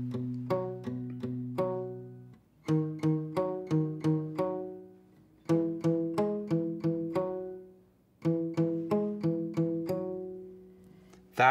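Acoustic guitar plays the intro of a song slowly: four phrases of clear plucked notes ringing out, separated by short pauses, close and alone.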